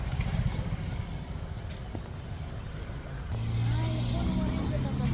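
Auto rickshaw ride through Pune, a close, rattly small engine droning under background chatter, growing louder and more insistent in the final seconds.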